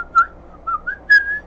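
Someone whistling a melody, a few short clear notes and a slide, close and fairly loud with no talking.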